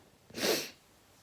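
A single short, sharp nasal burst from someone with a cold, rising quickly and fading within half a second against near silence.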